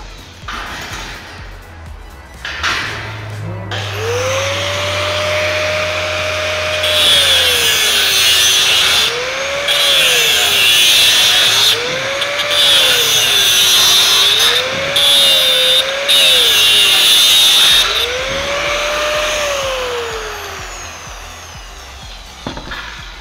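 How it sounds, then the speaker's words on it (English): An angle grinder saws off parts of a deep water culture aquaponics base, its motor whining and rising and falling in pitch as it bites repeatedly over about twenty seconds, loud and close with no talk. "So just gonna use the grinder here and saw them off."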